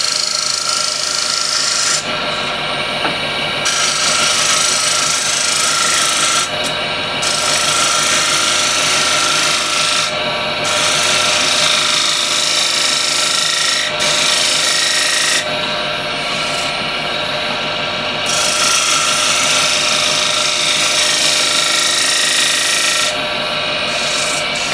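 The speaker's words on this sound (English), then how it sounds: "But first I'm just going to shear scrape this." A tool shear-scrapes spinning wood on a woodturning lathe in a loud, continuous close-up rasp, with brief dips where the cut lifts off every few seconds.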